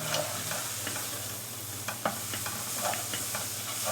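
Turmeric, curry powder, a small cinnamon stick and ground cinnamon toasting in a pan, with a steady faint sizzle and occasional scraping stirs and spoon clinks.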